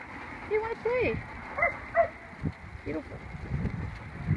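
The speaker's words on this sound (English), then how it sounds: "Dogs want to play." Dogs yip, whine and give short playful barks at a distance, with faint outdoor wind and a person speaking quietly underneath.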